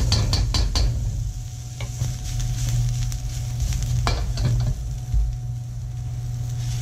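Asparagus and Brussels sprouts stir-fry in a hot pan with a constant close sizzle, broken by a few sharp clicks and scrapes of stirring, with no speech.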